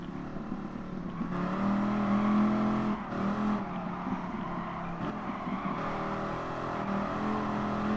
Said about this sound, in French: Ah, la voiture, comment elle a dérapé.